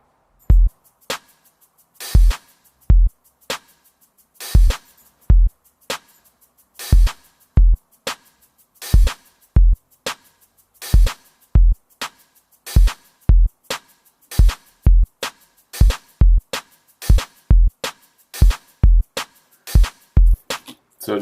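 A progressive house drum pattern runs at doubled speed, with kicks, claps and ticking hats tumbling past in a faster, denser loop, loud and close without any voices.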